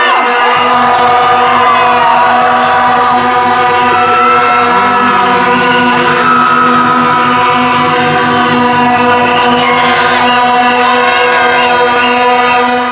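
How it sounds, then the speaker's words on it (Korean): A large protest crowd outside a national police agency roars with sustained, loud jeering and booing, a dense wall of many voices shouting together without pause. "야유의 함성 다시 질러보겠습니다. 함성 시작!"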